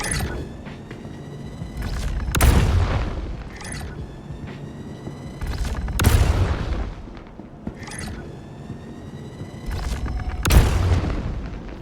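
Scourge railgun in Star Citizen firing charged shots: three heavy booming blasts spaced about four seconds apart, each preceded by a rising whine, loud and close with no talking.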